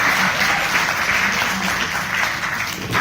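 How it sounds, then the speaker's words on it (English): Audience at a University of Mumbai Law Academy event clapping for the organizers, dense, sustained applause filling the room at a steady level. "If I could just have a round of applause for Sir, Ma'am and the overall organizing committee team."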